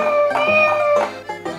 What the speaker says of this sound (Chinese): 最下面的好像是小花猫，哎， 小猫 cat